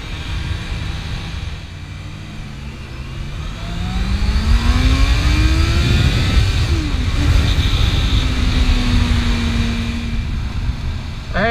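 A motorcycle cruises along a quiet lakeside road, its engine droning steadily and rising in pitch as it accelerates, with constant road and wind noise throughout.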